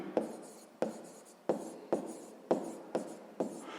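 A pen scratches out a sixth-grade math equation on paper, seven short rhythmic writing strokes, each beginning with a sharp onset and then tailing off, close and fairly quiet with no voices.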